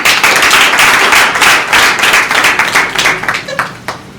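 A loud burst of audience applause at a public-speaking club session in Bamako, dense steady clapping for several seconds that thins out toward the end.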